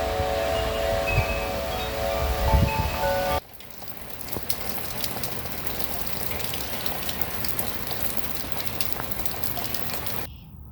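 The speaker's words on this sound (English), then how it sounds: "it looks like this morning we're gonna get some serious rain" Heavy morning rain pours down on a farm, a steady dense hiss with scattered patter that runs nearly the whole clip after a louder, noisier opening stretch.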